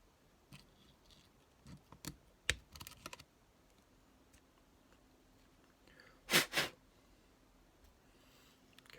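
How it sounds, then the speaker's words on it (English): Snips cutting the legs of a wire coil while building a Voltrove Mini V2 vape atomizer, a few faint clicks early on, then two sharp crisp snips close up a bit past the middle, in a quiet room. "We're going to snip the legs."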